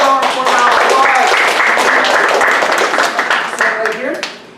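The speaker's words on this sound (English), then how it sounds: "Give Phil a round of applause" A live audience applauds at an escape artistry show, a dense wash of clapping that starts at once, holds steady and fades out toward the end, with a few voices mixed in.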